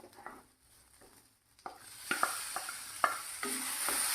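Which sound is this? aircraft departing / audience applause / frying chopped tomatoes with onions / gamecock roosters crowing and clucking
frying chopped tomatoes with onions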